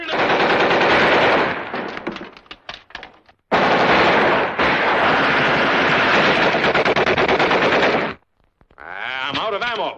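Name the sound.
machine gun fire in a war movie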